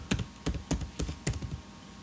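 Keys tapped on a computer keyboard while a phone number is entered, about seven crisp, close keystrokes in an uneven rhythm with no talk.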